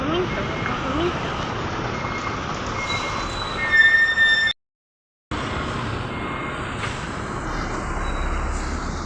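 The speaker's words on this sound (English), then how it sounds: "This is a trailer truck." A trailer truck rumbles past on a Philippine road, a loud, broad roar with some high squealing tones and a brief dropout, while people talk.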